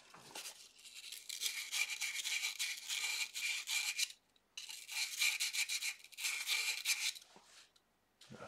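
A pen tube made from a bullet casing is scuffed up with quick, rhythmic abrasive strokes in two long runs separated by a short pause, close and fairly loud.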